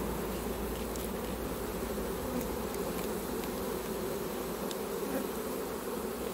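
A large swarm of honeybees, a steady, dense hum of many wings droning together at a low level, with occasional louder passes as single bees fly near and no voices.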